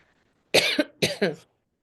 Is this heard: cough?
yes